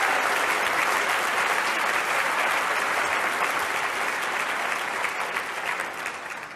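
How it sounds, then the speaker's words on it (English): A large audience at a Q and A event gives dense, loud, sustained applause for high school students in the room, slowly tapering off. "Can we have a round of applause for all the high school students that are in here?"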